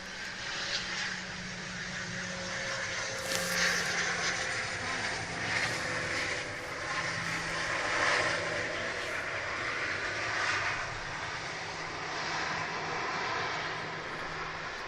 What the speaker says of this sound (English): Yeah, I do like a T-tail plane.